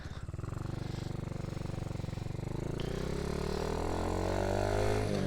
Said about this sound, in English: So we've gone back with the 28mm carb with velocity stat. The bike's running a lot better.